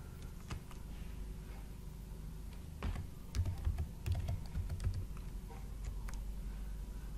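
Rapid clicking keystrokes on a computer keyboard while entering text in MS Word, close and clear, with a denser, louder burst of typing in the middle.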